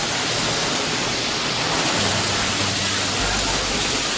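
Heavy rain pours down in a dense, steady roar with water pooling, a loud constant wash of noise filling the whole stretch.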